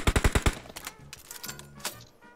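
Automatic gunfire in a mobile shooter game, a rapid burst of five loud, close shots at the start, then scattered quieter game sounds and effects trailing off.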